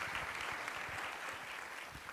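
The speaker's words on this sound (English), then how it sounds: "give you all a round of applause" Audience applause at a graduation convocation ceremony, a steady dense wash of many hands clapping throughout, moderately distant and even in level with no voices over it.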